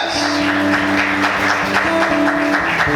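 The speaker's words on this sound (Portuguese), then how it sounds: "Você pode aplaudir e exaltar o nome do Senhor por isso." Congregation applauding during a church sermon, a short stretch of steady clapping over a sustained musical tone, with some voices mixed in.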